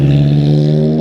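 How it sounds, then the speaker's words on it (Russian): A car passes close by on a narrow Hong Kong street, its engine a loud, steady humming drone that holds for the whole moment, with no talk over it. "Еще одна машинка."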